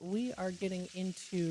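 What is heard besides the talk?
bacon frying and sizzling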